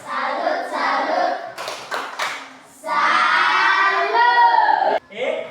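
A group of children claps and chants together in a rhythmic salute clap in a classroom, with bursts of quick clapping between loud shouted group chanting.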